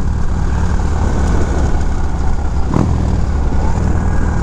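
A 1979 Harley-Davidson FLH Shovelhead V-twin engine revs loudly and steadily close by, its deep low rumble holding throughout, with one sharper rev burst near the end.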